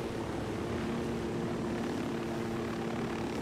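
Helicopter in Ghost Recon, a steady, moderately loud rotor and engine drone with a constant tonal hum, heard alone without voices.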